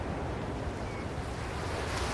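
Ocean waves wash continuously in The Search, a broad, steady roar of surf with a windy hiss. The sound stays loud and even throughout, with no voices.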